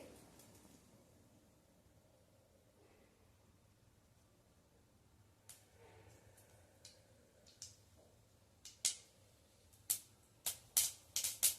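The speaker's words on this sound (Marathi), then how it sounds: "मोहरी तडतडली की त्यामध्ये" Mustard seeds spluttering in hot oil in a pan, starting quiet with scattered pops that grow into a quickening run of sharp, close crackles toward the end.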